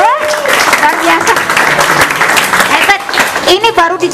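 A crowd claps steadily and fairly loudly at a writing-creativity seminar at an Islamic boarding school in Bogor, with voices talking and calling out over the applause.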